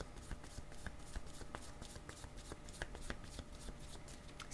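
Tarot cards shuffled by hand in a steady run of soft riffling flicks and taps, fairly quiet and close, with no talking over them.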